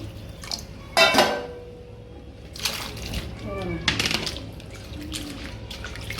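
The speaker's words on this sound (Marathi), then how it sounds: "आता हा पाणी फेकून द्यायचं आपल्याला" Rinse water from washing potatoes is thrown out in a sudden splash, followed by smaller sloshes and drips, with a voice talking over it.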